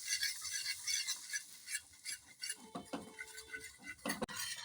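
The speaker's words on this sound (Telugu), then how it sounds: "బటర్ కరుగుతుంటే కొంచెం గోధుమ పిండి వేస్తూ కలపాలి." A utensil stirs wheat flour into melting butter in a pan, soft scraping and clinks against the metal with faint sizzling, quiet and close with no talking.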